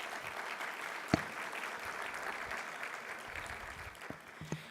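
An audience claps at a physician assistant program white coat ceremony, giving a soft, distant, steady patter of applause with a few sharper claps standing out near the front.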